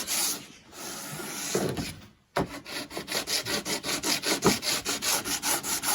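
Radius block sanding along a guitar neck being fitted with a thin veneer polymer clay inlay, a close, steady rasping rub in regular back-and-forth strokes after a short pause, with no voices.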